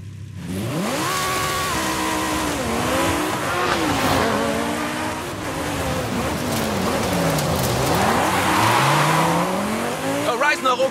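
A car in Forza Horizon 5 revs and accelerates hard along a road, the engine pitch climbing and dropping through gear changes, loud and close, with tire noise and a rain-like hiss underneath.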